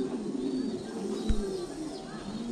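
Pigeons coo softly on a pigeon farm, low murmuring calls blending into a steady background hum, with a single brief knock partway through.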